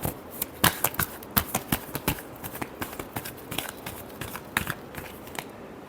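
Tarot cards being shuffled during a love reading: a brisk, irregular run of crisp riffling and flicking clicks, close and moderately loud, with no talk.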